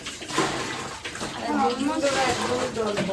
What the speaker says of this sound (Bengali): এখন জলের স্পিডটা অনেক কম হয়ে গেছে